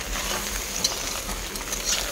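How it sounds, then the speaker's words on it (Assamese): Taro mixture frying in a pan with a steady, close sizzle and crackle that carries on evenly throughout, with no voices. "এয়া চাওকচোন কি ধুনীয়াকৈ ভাজি আছোঁ"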